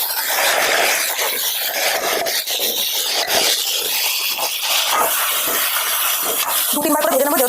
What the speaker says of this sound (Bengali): এবার আমি আলুগুলো ভেজে নেব আলুর দম করার জন্য।